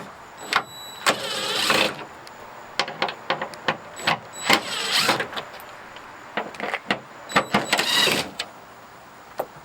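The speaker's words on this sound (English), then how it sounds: "So I'm just going to use my DeWalt impact gun." A DeWalt impact gun zips T30 bolts out of a 3rd gen Toyota Tacoma bed during a Mountain Hatch install, sounding as a series of short whirring bursts of varying length with quieter gaps between, close and loud.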